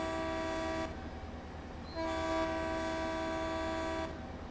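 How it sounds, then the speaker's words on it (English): A steady, sustained multi-tone Caltrain horn in Train Sim World blasts in two long sounds separated by a short break, loud and clear over a low rumble. "That's more like the horn I know and love."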